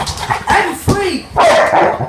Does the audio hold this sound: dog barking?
yes